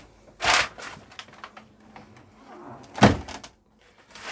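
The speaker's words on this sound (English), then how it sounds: "just going to shut the door over." A 2018 Swift Archway Celeste 480 caravan door slides and thuds shut close by, followed a few seconds later by a second louder bang as it closes firmly, with quiet shuffling between.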